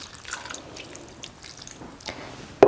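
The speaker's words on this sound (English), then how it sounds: "take a cup of cold water, and let it wash over the butter" Cold water poured over butter in a bowl to wash it, heard as soft splashes and trickles with faint drips, ending in a sudden louder splash.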